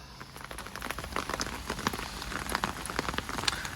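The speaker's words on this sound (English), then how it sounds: "I am under my umbrella because, like I say, it's really raining." Steady rain falls outdoors on a wet, muddy garden, dense patter of drops landing on surfaces and an umbrella close by, continuous and fairly loud throughout with no talking.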